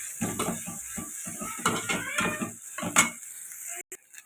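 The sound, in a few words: frying ginger garlic paste with onions in a pan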